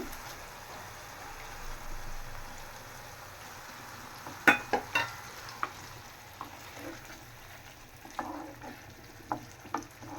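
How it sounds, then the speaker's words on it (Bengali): Prawns go into a pan of fried onion spice paste for a bhuna, giving a soft, fairly quiet sizzle broken by sharp clinks and scrapes of a spoon stirring against the pan. "এখন আমি চিংড়ি মাছ দিয়ে দিতেছি"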